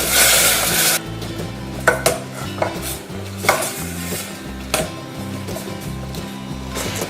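Barbecue sauce with cinnamon, sugar and lemon for mushrooms is mixed in a bowl, giving irregular utensil clinks and scrapes over a steady musical backdrop, with a burst of hiss at the start.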